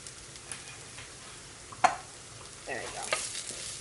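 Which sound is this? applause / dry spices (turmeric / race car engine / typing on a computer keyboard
dry spices (turmeric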